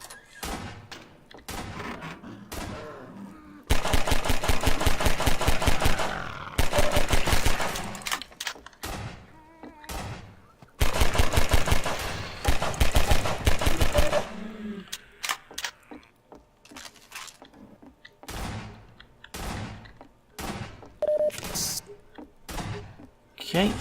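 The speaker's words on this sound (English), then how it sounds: "I'm going to use my 9mm" Sharp 9mm pistol shots and combat noise in Half-Life 2's Ravenholm level, arriving in separate cracks and dense rapid bursts, alongside clanks and quieter stretches, with someone talking in places.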